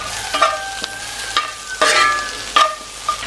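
Onions fry in a pan for a Malappuram-style chicken dish while a utensil stirs them. Loud scraping strokes recur every half second or so over a steady background sizzle.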